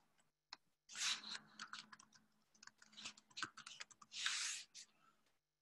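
Keys on a computer keyboard tapped in short irregular bursts, fairly close and moderately loud, with a soft steady hum beneath and no talking.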